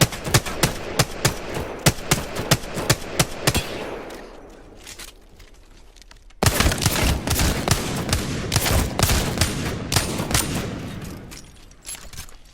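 Rapid bursts of automatic gunfire in the shooting game Apex Legends, loud and close, with sharp repeated cracks in quick strings, a short quieter lull, then another long sustained volley.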